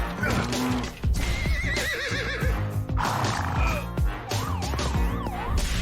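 Horses neigh and whinny in a Rustler video game trailer, their calls layered with siren-like wailing tones, clip-clop hooves and dense music, loud and busy throughout.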